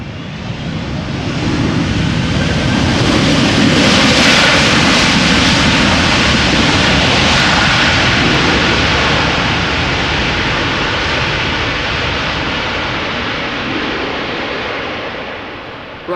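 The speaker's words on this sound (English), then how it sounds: "some nice rumble from the reverse thrust there" Airliner landing on the Polderbaan runway at Schiphol, its reverse thrust giving a loud, broad roaring rumble that swells over several seconds, holds steady, then slowly fades, heard from outside with no talk.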